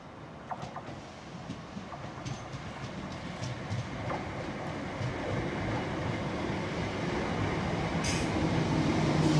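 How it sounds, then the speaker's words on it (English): A six-carriage train pulls into Newton station, its rumble growing steadily louder and closer over the clip, with faint clicks and rail noise over a continuous broadband roar and no voices. "This train is formed of six carriages."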